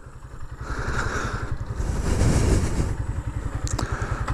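A motorcycle engine revs hard during a wheelie stunt, its rapid pulsing putter swelling to a loud peak midway, then easing back, with light clatter and no talk.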